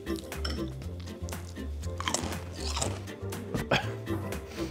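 Chip dip being mixed in a bowl, a clinking, scraping stir of utensil against dish repeated through the stretch under a low steady background drone.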